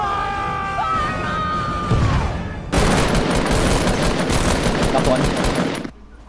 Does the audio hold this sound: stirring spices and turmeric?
no